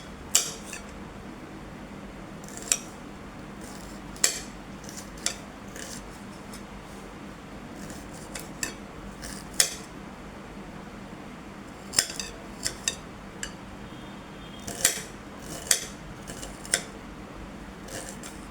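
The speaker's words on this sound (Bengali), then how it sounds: "আমি এখন পেঁয়াজগুলো কুচি করে নেব।" Knife chopping onions on a board, irregular sharp clicks and taps spread over a quiet background, some in quick bursts, with no one speaking.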